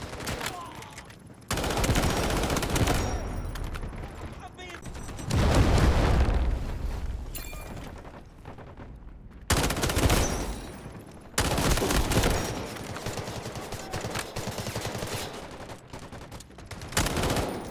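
Heavy gunfire in the video game Delta Force, with dense bursts of automatic rifle fire and booming explosions packed into long, loud volleys, broken by brief near-silent gaps and ending in another burst.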